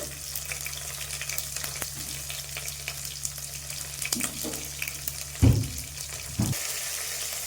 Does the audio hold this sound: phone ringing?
no